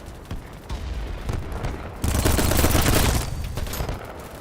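Battlebit match with dense rapid gunfire from several shooters, a steady crackle of shots building into a loud, thick volley midway before easing back to scattered fire.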